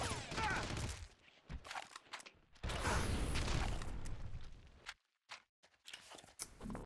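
Red Faction gameplay in a cave: a rocket launcher fires at the rock wall, giving long roaring blasts broken by short bursts of rumbling debris and mechanical clatter. The sound is loud and close, with brief silent gaps.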